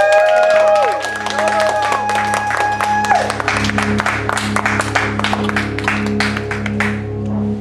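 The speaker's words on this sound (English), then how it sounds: "Round of applause" At a live club concert at High Dive in Gainesville, Florida, sustained music gives way to a dense patter of crowd clapping that swells and keeps going for several seconds before tapering off.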